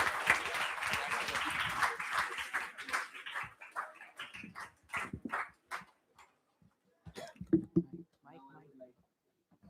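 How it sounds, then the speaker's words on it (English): Audience at a school literature-and-mathematics event applauding, a fairly quiet round that thins out into scattered individual claps with gaps between them. "applause for JF20?"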